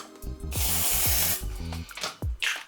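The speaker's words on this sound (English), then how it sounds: "I just put my deodorant on" A men's spray deodorant can lets out a close, loud, continuous hiss for about a second, with light clicks and thumps of handling before and after.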